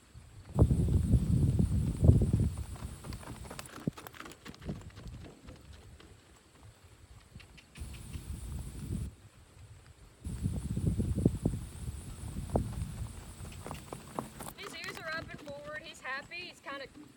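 A horse being lunged on a halter without a bit gives off rhythmic hoofbeats on the ground, with bursts of quicker footfalls between quieter stretches. A person talks intermittently over the hoofbeats.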